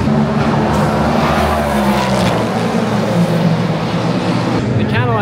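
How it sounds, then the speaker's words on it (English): Race cars at a WEC endurance race at Circuit of the Americas, a Cadillac hypercar among them, roaring loudly and continuously with engine pitch sweeping up and down as cars pass, with people talking underneath. "The Cadillac definitely sounds the coolest."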